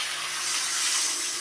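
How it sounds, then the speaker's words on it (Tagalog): Water poured into a hot pan of sautéed aromatics for lapu-lapu fish soup gives a steady, close sizzling hiss of steam that holds at an even loudness throughout, with no talking. "Lagyan natin tubig yan."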